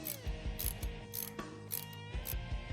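A ratchet on a 3/8 drive with a 5/16 Allen bit snugs bolts on a motorcycle backing plate, giving quick bursts of close, crisp clicking in short strokes with brief pauses between.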